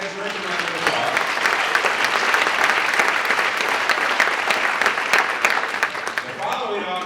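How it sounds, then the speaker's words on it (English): Sustained round of applause from an audience at a school district's State of the Schools event, steady dense clapping throughout with brief speech at the end. "I think that is a round of applause"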